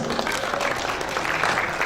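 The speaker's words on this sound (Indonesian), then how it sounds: "Kita berikan tepuk tangan" A seminar audience applauds a door prize winner, a close, steady patter of many hands clapping that fills the whole moment without pause.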